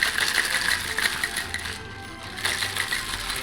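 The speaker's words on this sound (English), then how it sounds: "It was time to add the espresso and ice and shake." A cocktail shaker holding espresso and ice is shaken, with ice rattling and clinking in a rapid, steady rhythm that pauses briefly before resuming.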